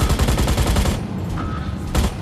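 Mech weapons fire in Mech Arena, a rapid, loud burst of automatic shots lasting about a second, then a quieter lull with a faint tone before another short hit.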